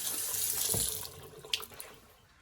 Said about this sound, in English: I hear water coming out of there.